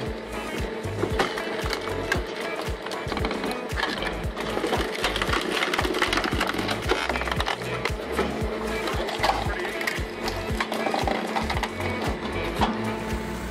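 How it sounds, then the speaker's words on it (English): A firewood processing machine splitting wood: a loud, continuous mechanical clatter with rapid repeated knocks and thumps over a steady machine drone, running without a break. "you can clearly see the power of this firewood processing machine"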